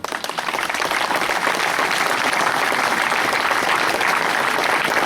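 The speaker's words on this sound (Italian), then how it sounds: "noi sicuramente adesso dedicheremo l'applauso più bello" Steady, dense audience applause for a Sardinian tenore choir from Orosei, loud and sustained throughout, with crowd clapping filling the room and no voices standing out.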